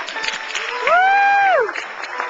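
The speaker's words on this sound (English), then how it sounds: "how about a big, nice round of applause" An audience at a leadership summit claps while a loud, sustained whoop or cheer rises over the applause in the middle, then the clapping continues on its own.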